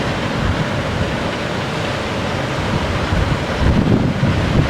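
Waves breaking on a beach with strong wind buffeting the microphone, a steady roar of surf and gusts that swells louder near the end, no voices.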